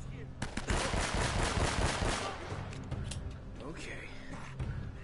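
Rapid pistol fire in an Uncharted shootout, a quick burst of sharp close shots in the first two seconds followed by scattered clanks and fainter gunfire, with someone talking over it.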